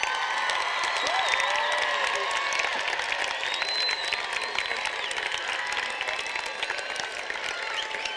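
At a high school graduation ceremony, the crowd gives the graduates a long ovation of dense clapping with scattered cheers and whistles, and voices call out over the steady roar.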